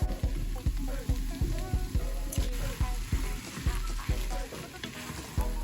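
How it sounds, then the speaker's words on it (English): Vegan gumbo stirred in a pot, low thick thumps repeating at an even pace about twice a second over a soft bubbling simmer, close up, with a voice faintly audible. "So we're gonna give this another stir"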